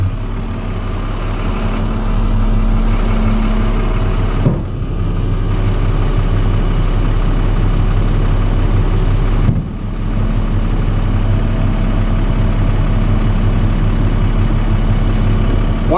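Diesel engine of a 2010 International dump truck running loud and close, holding a deep steady rumble with a slightly raised throttle and two brief dips in the drone.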